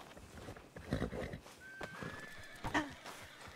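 A horse in the Western game RedM whinnies with a rising, drawn-out cry, with clip-clop hoofbeats and shuffling around it. Faint and somewhat distant, with no talk over it.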